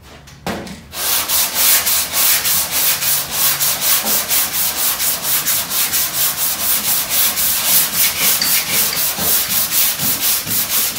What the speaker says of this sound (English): anytime you're starting to hit through that first guide coat and work it down, it likes to gum up the sandpaper until you get the guide coat off